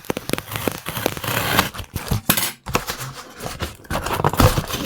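A cardboard package holding a Halloween maze prop is cut and torn open up close, with bursts of ripping, crinkling and crackling broken by short pauses.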